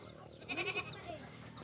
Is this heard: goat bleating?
yes